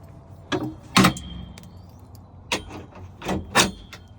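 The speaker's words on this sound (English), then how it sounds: "let me get your door, miss." Someone opens the door of a car fitted with a full roll cage. A handful of separate clunks and clicks ring out close by, with no talking.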